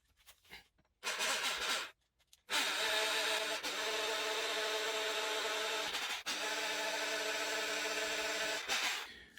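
Drilling with a 3.5 mm bit on a Hayabusa build, a steady whining drill motor with harmonic tones running continuously for several seconds after brief starts and stops, loud and close, no talking.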